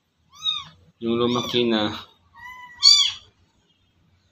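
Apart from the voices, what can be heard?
cat meowing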